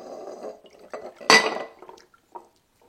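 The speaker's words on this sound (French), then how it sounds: "On pose le couvercle" A lid is set onto a jar of homemade vinegar, giving one sharp clink of glass and lid, with softer handling taps before and after.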